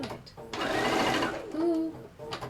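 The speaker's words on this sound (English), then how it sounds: "And then we're going to just sew." A sewing machine stitches down a quilt square, its motor whirring in a short close burst that pauses and starts again, with a voice speaking briefly.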